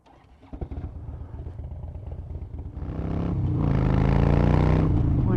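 A Harley-Davidson Fat Bob motorcycle rides through town traffic, its V-twin thumping at low idle before the engine revs up and accelerates into a loud, rising roar that holds steady.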